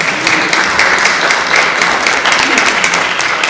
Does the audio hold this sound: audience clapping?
yes